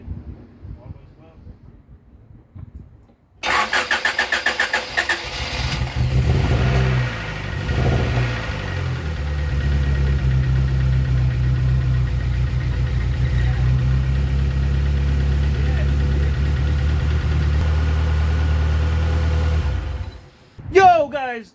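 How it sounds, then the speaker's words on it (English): A Honda Accord with a swapped Euro-R engine, sitting unused for 17 years, cranks and catches, then idles roughly with an uneven, stumbling misfire rhythm, loud and close, before cutting off at the end. "The engine sounds fine, but there's definitely a misfire in there"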